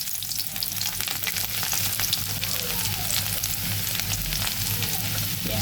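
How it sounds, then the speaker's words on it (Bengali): Chopped onion and green chillies fry in hot oil for a bean and potato bhaji, giving a loud, constant close sizzle with frequent crackles and the scrape of stirring. "সিম আলু ভাজির জন্য কাঁচামরিচ আর পেঁয়াজ কুচি দিয়ে দিব।"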